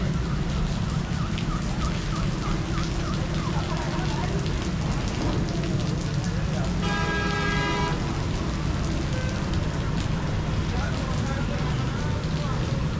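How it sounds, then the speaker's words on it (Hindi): Heavy rain in Fatehpur pours down in a continuous, loud hiss, with a short electronic beeping burst partway through. "बारिश हो रही है फतेहपुर में बहुत तेज़"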